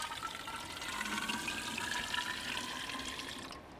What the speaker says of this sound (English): Just let me get some water in my kettle